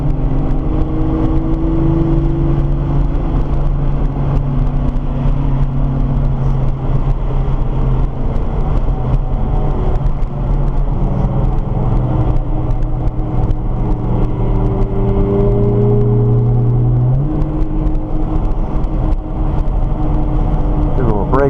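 A Nissan GT-R sports car on a race track accelerates through a slow turn, its engine drone rising and falling steadily throughout, with a voice talking over the car noise much of the time.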